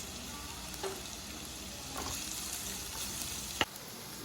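Onions with a pinch of rock salt sauté in a pan, giving a soft, steady sizzle at close range with a few light stirring clicks and one sharp tap near the end.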